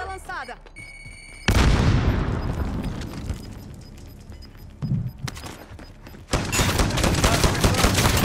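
Loud booming shotgun blasts fire in bursts in Call of Duty: Modern Warfare, interrupted by short quieter stretches and a brief voice.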